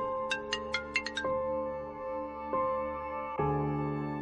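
An incoming call rings on a phone, with a quick burst of electronic chime notes over a sustained melodic tone that recurs in phrases. The ringtone plays alone and loud, with no talking.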